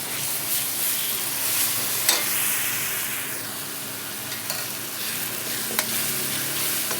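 Onions frying with ginger garlic paste for a chicken curry, a continuous broadband sizzle and hiss in the pan with occasional sharp utensil knocks.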